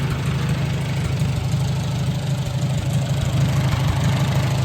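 Farmall Super A tractor engine idling steadily after being cranked, a loud, continuous low rumble with a faint knock that holds unbroken and close throughout, with no talking over it.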